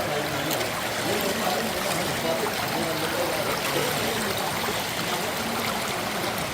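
Water from a burst drinking-water pipe on a road in Malaparamba, Kozhikode, flows in a steady rushing stream. The sound is continuous and moderately loud, with faint background noise.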